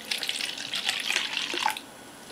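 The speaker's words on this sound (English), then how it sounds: "Let's go ahead and try to pour it into the finest bachelor's glassware." Mountain Dew Uproar soda poured from a bottle into a glass, a short hissing, splashing stream lasting under two seconds before stopping, close and clear with no talking.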